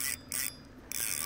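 A fishing reel's drag clicks in rapid ratcheting bursts as an 11 lb carp pulls line, three short runs of clicking with brief pauses between.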